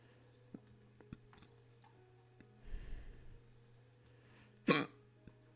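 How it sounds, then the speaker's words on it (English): A single sharp hiccup bursts out near the end of a quiet stretch, preceded by a muffled breathy sound and faint scattered ticks. "Y'all ever get those hiccups that just feel like your diaphragm leapt out of your chest?"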